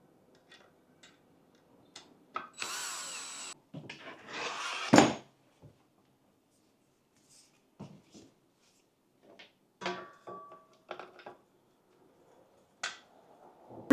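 Ceiling fan blades being fitted onto their screws by hand, a sparse run of quiet clicks, taps and brief scrapes of metal and wood with long gaps of silence, plus a couple of louder knocks.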